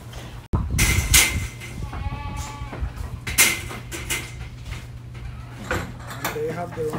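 Goats on a small farm bleat in short wavering calls scattered through the stretch, close by, while people talk over and between them.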